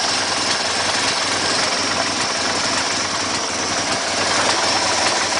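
A 1967 Mercedes engine idling after a cold start, a loud, steady, even rumble that holds constant throughout, heard up close with no voices.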